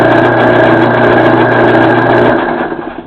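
A Craftsman Dunlop 109 metal lathe runs at a slow setting with a loud, steady mechanical hum and whir close by, then winds down and fades out near the end.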